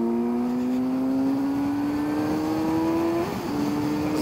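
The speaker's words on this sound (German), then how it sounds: "deswegen werden wir jetzt ein bisschen Gas geben" A car's engine climbs steadily in pitch as it accelerates along a road, loud and continuous from inside the vehicle, then shifts briefly for a gear change before pulling on again.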